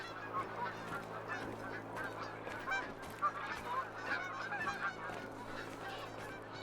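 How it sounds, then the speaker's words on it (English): Canada geese honk repeatedly in the Yukon wilds of theHunter: Call of the Wild, a flock calling in overlapping bursts at a moderate distance over a faint, steady background. "Canadian geese."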